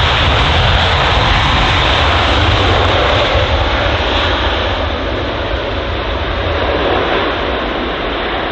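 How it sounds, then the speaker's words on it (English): A large airliner at London Heathrow roars loudly and continuously as it slows after landing, a broad, powerful engine rumble that eases slightly toward the end. "Really loud there as the aircraft begins to stop"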